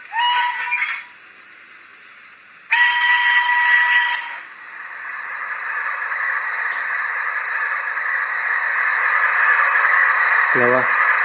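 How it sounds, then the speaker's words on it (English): Youchoos sound decoder in a model Southern 0-4-4 tank steam locomotive (Class M7 or H Wainwright) gives two short, shrill steam whistle blasts, followed by a long, steady hiss of steam that continues loudly to the end. "A few whistles, of course."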